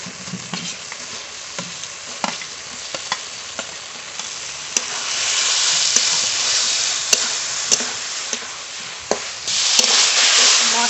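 Fried potato pieces are stirred into oily masala in a pan, a spoon knocking and scraping in regular taps over a sizzle that swells louder midway and again at the end.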